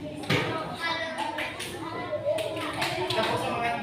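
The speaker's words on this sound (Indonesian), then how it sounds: "coba kita tepuk semangat lagi" Students in an Indonesian classroom doing a rhythmic group spirit-clap routine, several bursts of claps in a patterned rhythm mixed with children's voices and a teacher speaking.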